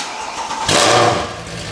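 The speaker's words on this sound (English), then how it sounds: "We're gonna hear the AMG cold start." A Mercedes-AMG V8 with an IPE exhaust fires up from cold, a loud close bark of ignition swelling into a sharp, raspy roar and then settling into a heavy rumble.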